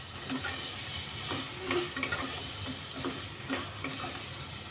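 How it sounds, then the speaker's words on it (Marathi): Green masala sautéing in a pan for Khandeshi-style kharé vaangé makes a soft, continuous sizzle with light scraping stirs, quiet and close, with no voices. "आता मसाला पण छान परतून घ्यायचा"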